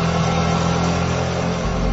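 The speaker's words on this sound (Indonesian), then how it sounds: "ku dengar ada bunyi sepeda motor" A motorcycle engine drones steadily at mid pitch, a continuous running hum that holds level without clear acceleration, then the tone shifts lower near the end.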